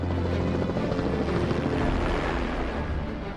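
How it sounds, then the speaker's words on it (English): Helicopter rotor noise from a red traffic-watch helicopter over Maryland fills the clip, a steady close throbbing whir with a low rhythmic chop, no voices heard. "a man who has a unique view of traffic from his red helicopter"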